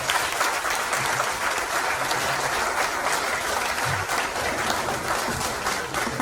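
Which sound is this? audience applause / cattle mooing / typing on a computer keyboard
audience applause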